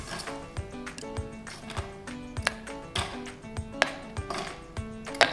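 Ice cubes dropped into strawberry lemon juice with water, a series of sharp irregular clinks and taps about a dozen times over several seconds, heard over faint background music.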